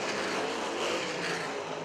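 USAC sprint cars race on a dirt track, a dense, loud engine roar held continuously as the pack runs close by, with no voices over it.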